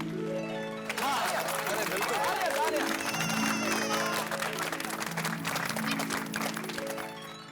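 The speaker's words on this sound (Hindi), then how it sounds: "सब लोगों ने ताली भी तो बजा लिया।" A studio audience applauds during a comedy sitcom scene, a dense wash of clapping that holds steady for several seconds, mixed with a music sting and voices underneath.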